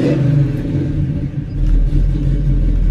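A 1980 Chevy El Camino with a freshly built dyno-tested engine runs close by, a loud, heavy low rumble holding steady with a slight dip before swelling back up.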